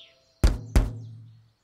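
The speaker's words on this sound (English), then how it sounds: "When you tap it and the watermelon sounds like this." Two hollow knocks on an unripe watermelon, a quick pair of dull thumps with a short resonant ring, close and fairly quiet.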